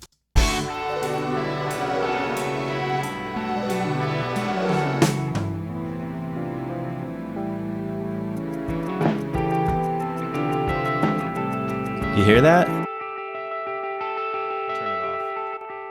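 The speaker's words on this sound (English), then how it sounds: "I wanted the guitar to have a bit of a delay on it, and so I automated this echo right here, on and off" Electric guitar plays a multitrack part with an automated echo delay that switches on and off, its repeats trailing behind the notes. A voice speaks briefly near the end.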